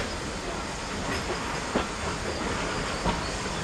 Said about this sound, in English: This train is moved by two Riverton panel tanks